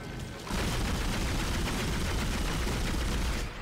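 The player's gun in the video game Dead Space fires a sustained, loud, rapid stream of shots for about three seconds, starting abruptly and cutting off near the end, with no talking.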